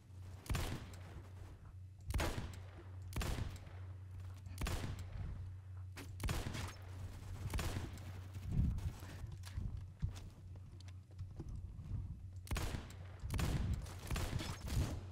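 Shots from an 1858 Carbine in the shooter game Phantom Forces crack out sharply, about ten spaced shots over a steady low hum, with a few louder bursts and occasional footstep-like thuds between them.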